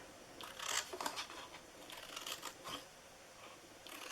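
Scissors cutting paper pieces for a handmade box, several close, soft snipping and rustling strokes in short bursts over a quiet background, no speech.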